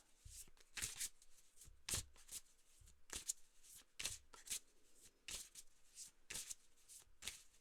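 A deck of cards is shuffled in a series of quick riffles and soft slaps, close but quiet, with brief pauses between bursts.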